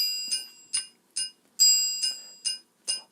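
Seven bright metallic ticks from a Carlsbro digital drum kit click track in a steady tempo, evenly spaced and crisp like a bell-toned metronome click, with no other sounds around them.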